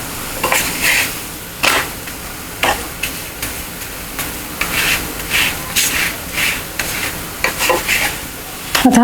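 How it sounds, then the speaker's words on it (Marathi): Methi paratha roasts on a hot pan, sizzling steadily while a spatula scrapes and turns it in repeated loud, close strokes, with no talking. "सगळीकडनं छान भाजला जातो असं फिरवून भाजला की"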